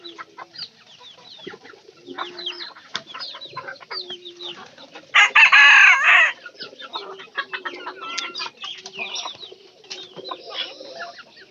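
Several chickens cluck and chatter nearby, with a rooster letting out a loud, brief call midway through.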